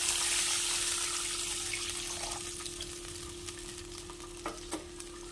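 Coconut milk poured into a pan of fried cashews and raisins for coconut halwa, stirred with a spoon, giving a soft liquid sizzle and bubbling with a steady hum and a couple of light utensil clinks near the end.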